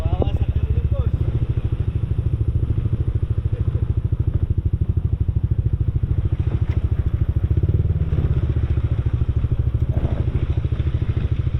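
A motorcycle engine chugs in a steady, rapid putter throughout, with some rattling and thumps as it rides along a muddy route in Daraitan, Tanay, Rizal, fairly close.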